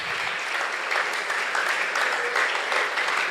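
Audience clapping at a mentorship session, a steady wash of many hands lasting the whole stretch at moderate level, with no talk over it.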